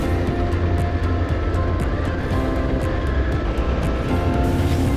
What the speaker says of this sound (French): Et Sébastien, lui, il préfère jouer de la poignée de gaz.